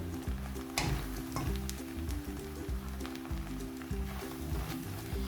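Onions fry in a pan for an Indian besan dish, a soft, steady sizzle and crackle at low level with occasional small pops, heard beneath faint background music.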